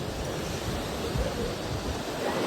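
Continuous wash of lake water and waves near a waterfall in Mussoorie, with a soft, noisy roar of water rolling in, somewhat wind-buffeted and steady.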